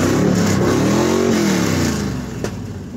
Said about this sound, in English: She wants to hear the blue and white car.